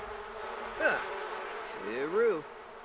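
Bees buzz in a Sims 4 beekeeping scene, two short rising and falling drones against a quiet, hissy background, the second one longer and a little louder.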